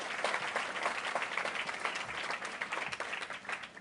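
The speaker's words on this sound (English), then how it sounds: "One more round of applause for our honorees, Jim McCann, Doug Wood" A large audience at a justice education gala applauds, a dense, sustained patter of many hands clapping at moderate distance that holds steady throughout.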